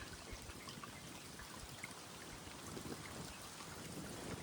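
Clear stream water in a forest in the Sahyadri hills, a steady, soft trickling and gurgling flow that continues without a break and carries no speech.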